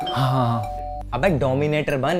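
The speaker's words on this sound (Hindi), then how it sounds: "कब से डोरबेल बज रही है, खोल क्यों नहीं रहे हो?" A doorbell chimes with a sustained ringing tone, then people start talking over it up close.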